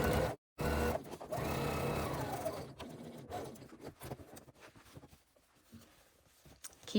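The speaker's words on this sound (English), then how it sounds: "we just need to close up the sides of this pocket. Back stitching at the beginning and at the end." Sewing machine back stitching along the sides of a crossbody bag pocket, a short burst of rapid needle whirring followed by quieter clicks and fabric handling as the machine stops and reverses.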